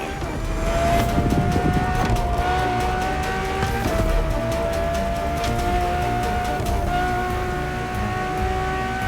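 A Ferrari Enzo supercar drives hard in the racing game The Crew Motorfest, its engine holding a loud, high whine that climbs and drops at several gear shifts, with tire noise underneath.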